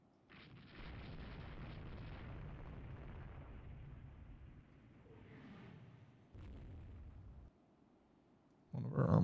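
Torpedo strike explosions in the naval strategy game Rule the Waves 3, a deep rumbling blast followed by a fainter second boom, with low rumble trailing off and a sharp loud burst at the very end.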